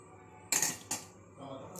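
A heavy vessel set down on the lidded pot of chicken curry biryani, two sharp metallic clanks close together followed by a faint scrape, close and with no talk.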